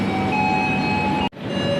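Kaligung passenger train at Semarang Poncol station, a loud, steady rumble with a sustained tonal hum that cuts out abruptly near the end, then resumes.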